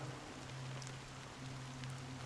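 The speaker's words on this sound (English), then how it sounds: "So, how long has this rain been going on for?" Steady rain falls in the video game Honkai Star Rail, a continuous even hiss with a low hum beneath it and no voices.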